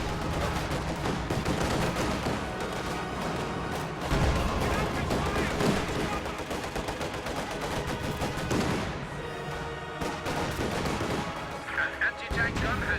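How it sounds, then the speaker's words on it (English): Incendiary artillery and gunfire in a Company of Heroes match crash down on an OKW base: continuous rattling shots and heavy booms over a busy battle bed, with a voice talking over it. "Incendiary artillery coming down in the OKW base."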